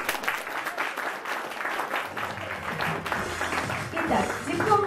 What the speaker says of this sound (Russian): Ваши аплодисменты всем нашим победителям